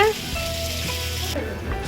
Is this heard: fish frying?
yes